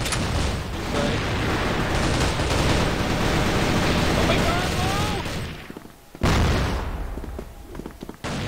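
A grenade blast in a competitive online shooter match follows a stretch of dense gunfire: the noise briefly drops away, then a loud sudden boom hits and fades, with players talking over the action.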